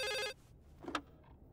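An old telephone bell rings in The Suicide of Rachel Foster, one short loud burst of ringing that cuts off abruptly, followed by a faint clunk and quiet room tone.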